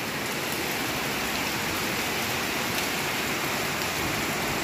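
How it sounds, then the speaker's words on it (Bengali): Heavy rain pouring down steadily, a dense unbroken hiss of drops on surfaces, loud and constant throughout with no talk. "কি বৃষ্টি, কি বৃষ্টি!"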